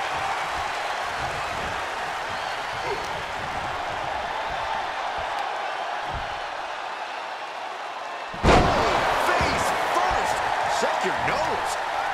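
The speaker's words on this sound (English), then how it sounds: "Suplex launched." A wrestler hits the mat from a suplex in the WWE 2K video game, during a Vader tag team match: one heavy slam lands abruptly over steady crowd noise, which swells louder right after the impact.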